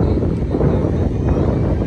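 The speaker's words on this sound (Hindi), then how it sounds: "हवा चल रही है बहुत" Strong wind blows outdoors at a seaside picnic spot, giving a steady, rumbling roar of buffeting across the microphone with no clear voices.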